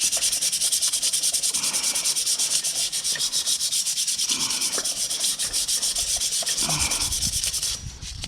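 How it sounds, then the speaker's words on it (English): Fine wet-and-dry sandpaper is rubbed briskly over a rusty brake disc on a Chinese 110cc kids' mini quad bike, making close, continuous rasping strokes with no talk. "I'll just try and clean some of this rust off here, off the disc."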